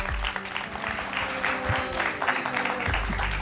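A studio audience applauds to welcome a singer on a Ram Mandir-themed broadcast, fairly quiet, continuous clapping under background music for a few seconds.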